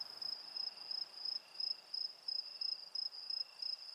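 Crickets chirp on a moonlit night in a steady rhythmic pulse of short bursts, repeating about twice a second, clear but fairly quiet over a faint background, with no talking.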